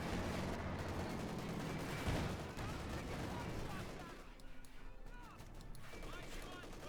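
A Company of Heroes 2 World War II battle: US riflemen carrying BARs push a massive infantry assault against Panzer Lehr. Dense, continuous rifle and automatic gunfire crackles throughout, loud and layered with distant booms.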